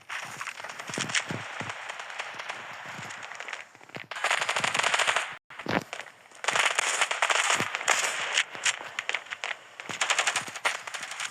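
Rapid AKR rifle fire in the mobile shooter game Standoff 2, loud repeated bursts of sharp shots in quick succession with brief gaps between volleys.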